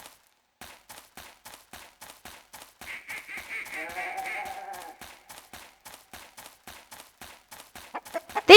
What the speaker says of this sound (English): These birds are chickens.